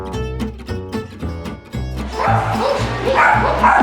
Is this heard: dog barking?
yes